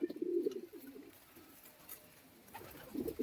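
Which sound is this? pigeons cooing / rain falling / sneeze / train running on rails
pigeons cooing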